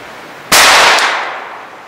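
A single loud, sharp gunshot fired at a target with a cartridge firearm, a sudden crack followed by a short echoing decay.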